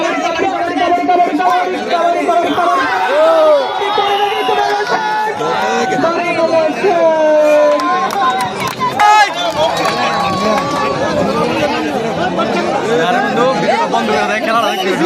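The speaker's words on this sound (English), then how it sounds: "the crowds are loud, and everyone is cheering for their favorite team" A loud, dense crowd at a kabaddi match cheers and chatters continuously, a steady roar of many voices with shouts rising throughout.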